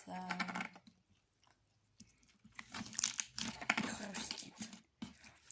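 Magic slime crunches and crackles as it is stretched, dense close crinkly bursts in two main stretches separated by a brief quiet gap.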